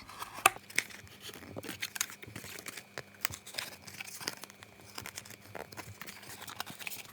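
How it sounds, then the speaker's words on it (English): A paper box template for miniature advent calendar boxes being scored along its fold lines, with quiet, close scratchy strokes and small crinkles in irregular bursts, faint and alone. "along that line and then along here, you're going to be scoring"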